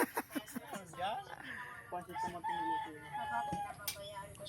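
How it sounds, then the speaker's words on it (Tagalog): A chicken clucks and crows close by in a Philippine rural setting, with sharp bursts of fowl calls mixed in with people talking nearby. "nag-iisip kung kakatayin yung manok o hindi."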